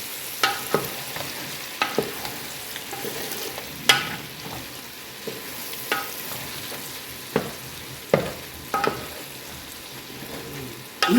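Stuffed eggplant pieces for gutti vankaya sizzle steadily in a pan while they are stirred and turned, with a spoon scraping and clacking against the pan every second or two over the constant frying.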